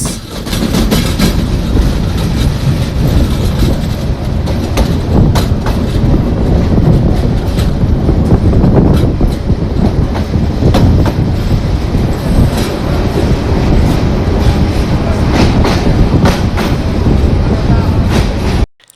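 The Mohanganj Express rolls into unlit Mohanganj railway station at night, loud and steady with rumbling wheels and rhythmic clickety-clack over the rails, continuous and close throughout.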